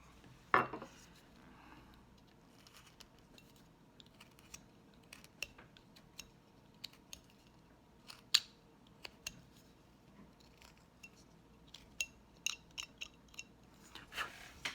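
A knife carves a wooden cowboy bolo with small, faint cuts: quiet, scattered clicks and scrapes against a near-silent background, with no talking.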